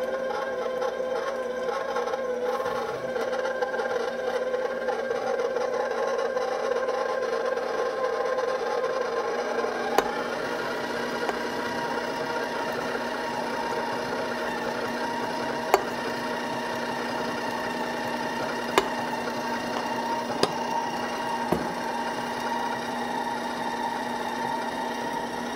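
Electric mixer creaming butter and sugar for eggnog kringla dough, a steady close whirring motor hum with a few brief clicks of the beaters against the bowl.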